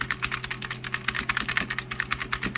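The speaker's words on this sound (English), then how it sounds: "This is the keyboard test on the new one." Fast typing on a new mechanical keyboard, a quick rhythmic stream of fairly soft, solid-sounding key clicks heard close up with no talking.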